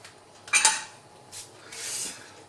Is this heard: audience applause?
no